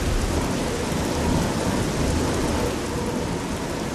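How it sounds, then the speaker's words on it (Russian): Heavy rain and deep rolling thunder from a storm in the video game Oblivion, a loud unbroken wash of noise that swells slightly midway, with no one talking. "Ой, как громко. Опять гроза."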